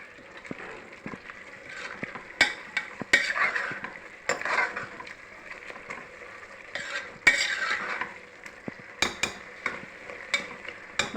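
Biryani masala frying in a pan for mutton biryani, with a steady sizzle under repeated sharp metal scrapes and clanks of a spoon stirring against the pan.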